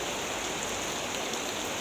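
Heavy rain in the wet season at a grape-growing plot, a steady dense hiss of falling water filling the whole clip without pause, loud and close, with no voices.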